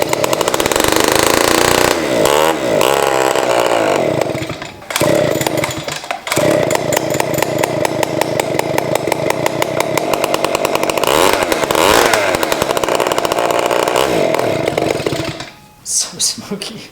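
Small clone engine on a vintage ARCO mini bike revs loudly and close with a raspy, buzzing note, surging and dropping in pulses before settling into a rapid chattering idle, then cutting out near the end.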